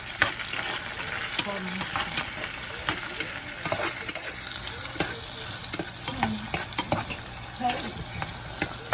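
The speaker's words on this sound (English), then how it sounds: "now we have to fry the onions for about 5 to 7 minutes until they turn about a light brown color" Onions fry in a pan for Indian sambar, giving a steady, close sizzle with faint scraping stirs through the whole stretch and no talking.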